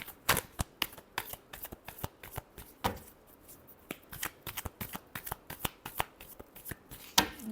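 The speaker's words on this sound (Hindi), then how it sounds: "Last shuffle." Tarot cards are riffled and shuffled by hand in a steady, rapid run of soft papery flicks and snaps, close up and quiet, with no talking.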